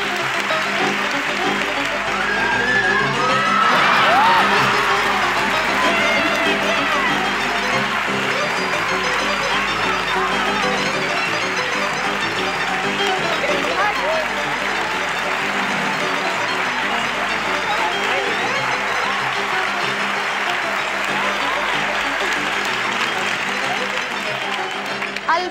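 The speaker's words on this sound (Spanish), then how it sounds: "vamos a darle un aplauso de ánimo" Sustained studio audience applause with some cheering on a Spanish TV game show, a dense, steady wash of clapping that swells near the start and carries on loudly throughout.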